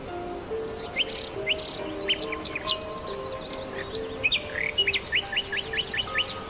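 Birdsong rings out over a faint background hiss, with a steady run of sharp, repeated chirps and trills that grow busier and more rapid toward the end.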